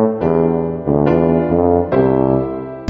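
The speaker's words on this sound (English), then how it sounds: "A tuba sounds like this." Tuba playing in a Disney Mickey Mouse video game, a few deep, round, sustained notes stepping through a short phrase, loud and close with no talking.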